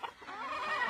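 A rooster at a gamecock farm gives soft, low clucking sounds from a short distance, quiet and steady throughout, with no talk over it.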